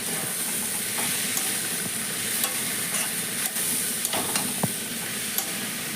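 Potato, shrimp and green jackfruit fry in spiced oil in a pan, giving a loud, dense, steady sizzle and hiss with occasional spatula knocks up close.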